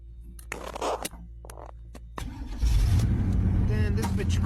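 A carbureted hot rod farm car with an Edelbrock carburetor cranks in short bursts and then catches, roaring into a loud rough idle, with a person talking over the start.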